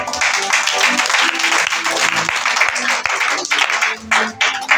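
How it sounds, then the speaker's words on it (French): A church congregation at a Sunday worship service claps and cheers continuously, a dense, loud wash of applause with faint voices mixed in. "On acclame ça."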